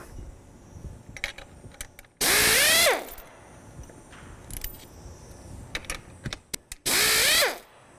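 A power tool whirs in two short loud bursts, rising in pitch, as bolts come off a BLACOH AODD pump dampener housing, with small clicks and handling noises between bursts and no talk.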